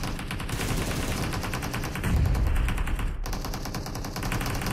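Sustained automatic gunfire in the mobile battle royale PUBG Mobile, rapid evenly spaced shots crackling continuously, with a heavier thump midway and a brief break before firing resumes.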